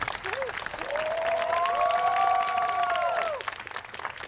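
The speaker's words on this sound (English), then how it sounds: "So one more round of applause to both the teams." At the RobotX 2024 awards ceremony, an audience applauds in a steady wash of clapping that lasts several seconds, with a long whistle rising above it partway through before the applause fades.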